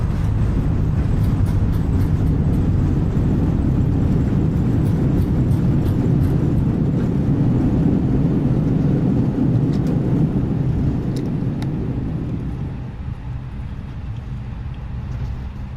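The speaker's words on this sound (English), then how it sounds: "Reverse thrust." An Airbus A320 in Microsoft Flight Simulator 2020 landing at Stansted roars under reverse thrust, a loud, dense, low engine rumble that holds steady and then eases down near the end, with no talking.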